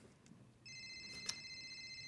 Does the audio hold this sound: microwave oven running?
no